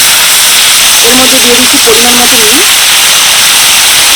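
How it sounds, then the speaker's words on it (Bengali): Cut chicken pieces sizzle in hot white oil in a kadai with a loud, dense, continuous hiss that fills the whole stretch, while a brief voice-like sound rises faintly beneath it midway. "তেল গরম হয়ে গেছে এবার দিয়ে দিচ্ছি কেটে রাখা চিকেন"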